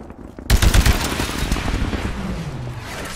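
Small arms gunfire in the shooter game Titanfall: a sudden loud volley of rapid automatic shots bursts in after a quiet start, then rattles on with echoing booms fading underneath.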